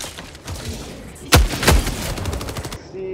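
Rapid automatic gunfire from a Helldivers 2 firefight, with two loud heavy shots standing out amid a dense stream of bursts, close and intense, then cutting off near the end.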